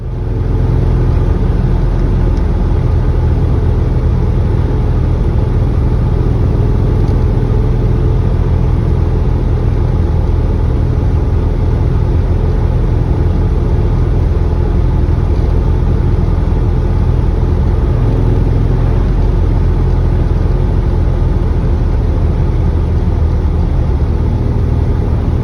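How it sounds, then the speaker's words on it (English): A 1950s-era Lancia Aurelia B10 drives along, its engine droning steadily with a loud, broad rumble and whir throughout, noisy from aged gaskets, with no talk over it. "Driving the Lancia Aurelia. This one's a bit of a noisy bucket considering a lot of the gaskets here are 70 years old."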